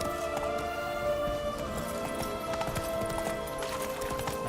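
Hooves of a horse galloping in The Witcher 3 video game, a rapid continuous clip-clop rhythm under steady game music and ambience, loud and close throughout.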